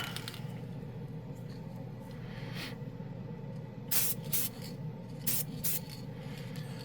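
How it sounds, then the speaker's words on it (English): A Duplicolor 1K Extreme Gloss clear coat aerosol can sprays in several short hissing bursts over steady background hum, close by, with no talk. "I shook up my 1K Extreme Gloss finish from Duplicolor"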